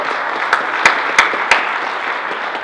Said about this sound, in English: So, round of applause for Meredith